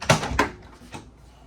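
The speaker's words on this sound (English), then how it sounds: "The refrigerator door pushes in from either side." Refrigerator door in a 2026 Rockwood Signature 8265KBS travel trailer being pushed open, with two close, sharp thumps in quick succession and then a softer knock, heard alone in a quiet interior.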